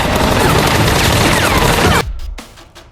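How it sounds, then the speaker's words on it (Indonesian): A dense, loud burst of rapid movie gunfire rattles for about two seconds, then cuts off abruptly into a few fainter scattered cracks. "Hobbs yang mendengar adanya suara tembakan"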